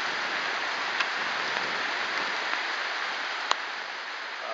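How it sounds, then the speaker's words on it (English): Steady rainfall hissing evenly, with a few louder drops tapping nearby against a constant wet background. "It's raining."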